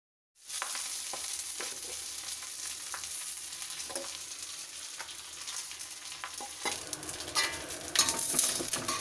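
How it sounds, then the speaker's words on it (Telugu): Chennangi leaves frying in hot oil in a kadai, a steady close sizzle with occasional scraping and clinks as the leaves are stirred, no one talking. "ఈ చెన్నంగి ఆకు బాగా ఫ్రై అయ్యేలాగా వేయించుకోవాలి."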